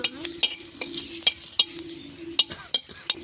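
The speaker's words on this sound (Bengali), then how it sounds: "তরকারি সম্বারার জন্য আমি অল্প একটু তেল দিয়ে দেবো, শুকনো লঙ্কা" Dried red chilies fry in a little oil for tempering, a steady sizzle with a spoon stirring and scraping the pan in sharp repeated clicks, close and fairly quiet.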